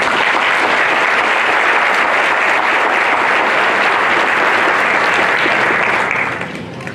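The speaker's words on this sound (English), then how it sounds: "So I think you all deserve a round of applause." Loud, sustained applause from a crowd at a high school graduation ceremony, thick and continuous for about six seconds before fading out at the end.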